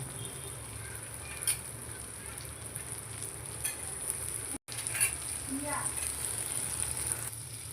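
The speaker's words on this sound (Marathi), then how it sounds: "मस्त कांदा परतून घेऊया आपण" Onion with ginger-garlic paste sautéing on a tawa, a low continuous sizzle broken by a few spoon scrapes, with faint background voices now and then.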